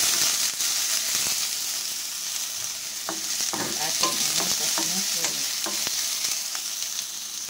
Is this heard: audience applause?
no